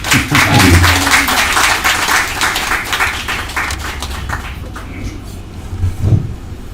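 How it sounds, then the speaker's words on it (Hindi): An audience at a yoga philosophy class claps loudly in a burst of distinct hand claps that gradually thin out and fade, leaving a few scattered claps near the end. "एक बार जोरदार तालियां हो जाए।"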